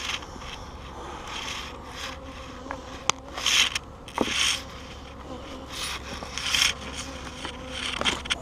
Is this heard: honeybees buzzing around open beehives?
yes